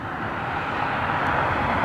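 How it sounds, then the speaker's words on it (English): A steady broadband roar of an Embraer E175 airliner descending on final approach, loud and constant, heard alone without voices. "Descending E175, one final for runway 24 right."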